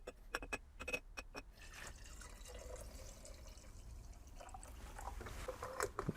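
Distilled vinegar poured into a jar of peri peri mash, with a few quick drips at first, then a steady, soft trickling and gurgling pour that continues close by throughout.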